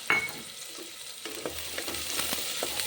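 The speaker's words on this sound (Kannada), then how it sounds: "ಈರುಳ್ಳಿ ಹಾಕ್ತಾ ಇದ್ದೀನಿ ಚೆನ್ನಾಗಿ ಫ್ರೈ ಮಾಡ್ಕೊಳ್ಳೋಣ ಬೆಳ್ಳುಳ್ಳಿ ಹಾಕ್ತಾ ಇದ್ದೀನಿ" Onion and garlic fry in a hot pan, giving a steady close sizzle broken by scraping stirs, with no talking.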